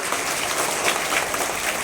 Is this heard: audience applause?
yes